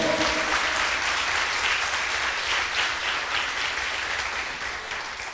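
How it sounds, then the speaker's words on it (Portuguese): A church congregation applauds together during a sermon, giving a dense, continuous wash of clapping that stays fairly even throughout before tapering slightly toward the end. "Você pode aplaudir ao Senhor?"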